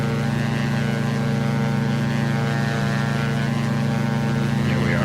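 A Diamond DA62 twin propeller aircraft at full power during its takeoff roll in the X-Plane 11 flight simulator, a steady droning engine and propeller hum with strong low harmonics, constant and loud without talk.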